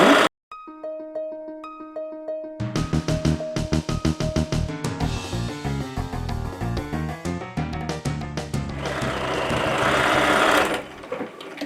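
A sewing machine stitches fabric in quick bursts, its needle hammering in rapid rhythmic runs that speed up into a continuous whir near the end, preceded by a few soft tonal beeps.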